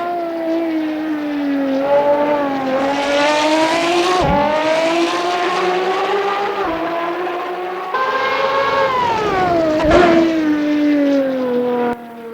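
A racing car engine in the Assetto Corsa video game, loud and continuous, revving up through the gears with rising whine and short breaks at each gear change.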